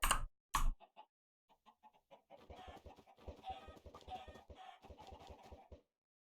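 Chickens in the video game Minecraft cluck in a string of short, choppy bursts, with a couple of louder sharp sounds at the start followed by softer, scattered clucks.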